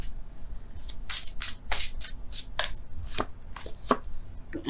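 Tarot cards are shuffled and drawn in a series of crisp, close riffling swishes and slaps, repeating in an uneven rhythm with no talking.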